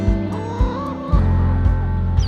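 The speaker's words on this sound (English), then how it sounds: "Three more Icelandic chicks, 1 mama hen, and 1 layer chick in there." Icelandic chickens and chicks clucking and squawking close by, a few short honking calls followed by a louder sustained run of overlapping fowl cries.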